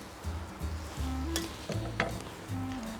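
Mushrooms fry in a pan during the cooking of a cauliflower steak, giving a soft, steady sizzle with occasional stirring scrapes and clicks.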